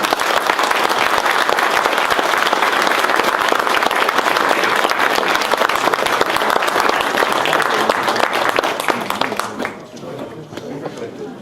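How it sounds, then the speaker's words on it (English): Sustained applause from a debate audience for the candidates, dense and steady clapping that carries on for about ten seconds before thinning near the end. "A round of applause for the candidates, please."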